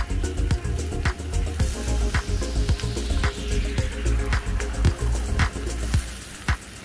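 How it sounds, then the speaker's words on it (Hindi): Chicken pieces in a creamy garlic sauce sizzle and bubble in a pan over a low flame, a steady close frying hiss with repeated stirring scrapes and soft squelches. "लो फ्लेम पे हम इसे 5 से 10 मिनट तक पकाएंगे।"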